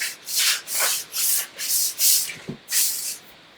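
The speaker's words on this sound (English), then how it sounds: "I just know these sliders are making a ton of noise here." Exercise floor sliders scraping across the floor in a workout, about seven rhythmic rasping sweeps, each roughly half a second long, close and fairly loud with no voices.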